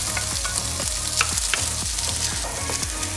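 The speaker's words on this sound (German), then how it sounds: "Dann dünste ich die Zwiebeln andünsten." Onions and bacon sauté in a hot pan with a dense, steady sizzle throughout, punctuated by rhythmic scraping knocks of stirring against the pan, close and fairly loud with no talking.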